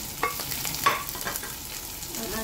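Garlic fries in a pan with a soft, steady sizzle and several sharp crackles and stirring scrapes, close and fairly quiet, heard alone as the first step of a Chinese-style squid stir-fry.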